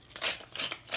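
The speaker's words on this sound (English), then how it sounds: "final mill of pepper." A pepper mill grinds a final dose of pepper over soft-boiled eggs in a cookery school kitchen, giving close, quiet, rhythmic gritty crunches, three or so quick turns in a second.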